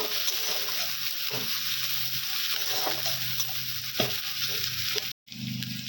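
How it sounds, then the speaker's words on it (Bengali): Chopped onion and four green chillies fry in oil in a kadai with a steady, close sizzle and occasional stirring scrapes, the sound cutting out for a moment near the end. "এবারে দিয়ে দিব কুচানো পেঁয়াজ, 4টে কাঁচা লঙ্কা, একটু নাড়াচাড়া করে নেব।"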